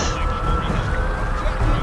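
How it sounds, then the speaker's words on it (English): A siren wails steadily in the Fallout 4 video game, a loud continuous tone over game background noise. "of course it is a siren."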